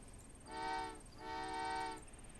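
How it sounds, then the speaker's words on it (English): A train in the game Old Man's Journey sounds two long, loud harmonic horn blasts in succession as it arrives, standing alone over quiet background ambience. "Hey there, train!"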